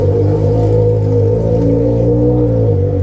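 A Yamaha XJ6 motorcycle with a straight-through exhaust idles roughly and is held on the throttle to keep it from stalling, a loud, steady low engine drone close by.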